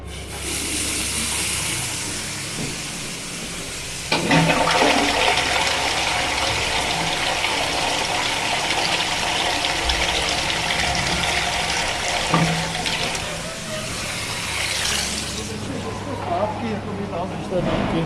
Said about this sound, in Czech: spláchl jsem záchod